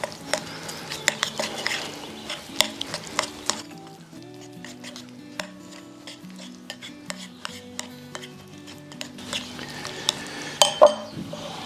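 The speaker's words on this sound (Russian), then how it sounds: "Все это тщательно перемешаем." A spoon scrapes and clinks steadily against a bowl of oil-based chicken marinade in close, continuous stirring, with faint kitchen clatter.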